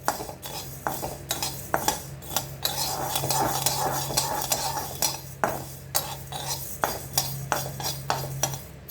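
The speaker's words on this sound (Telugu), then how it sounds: "కొన్ని యాలకులు, లవంగాలు, చెక్క, రాతి పువ్వు ఇవన్నీ వేసి మళ్ళీ కలుపుకోవాలి కాసేపు." Whole cardamom, cloves, cinnamon and stone flower dry-roast in a pan while being stirred for homemade coriander powder. A metal spoon clinks and scrapes against the pan in a steady rhythm, close up, over a low hum.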